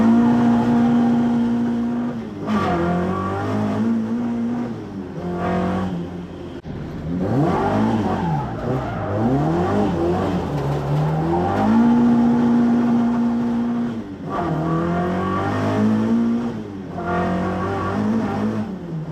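A Ford Escort Mk1 fitted with an ST170 engine revs hard through the gears in the Irish countryside, loud onboard with repeated rising and falling sweeps, shifts and brief lifts.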